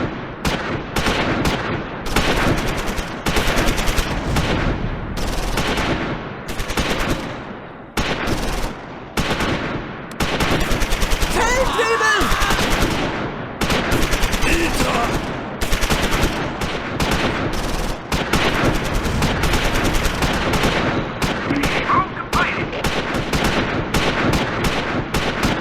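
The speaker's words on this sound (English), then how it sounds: "Hurst orders 2nd Platoon Headquarters in depth to fire at them." Infantry gunfire in Close Combat 4, a Battle of the Bulge fight at Houffalize with German infantry crossing a bridge: continuous loud rifle and machine-gun bursts with rapid rattling volleys and a few brief lulls.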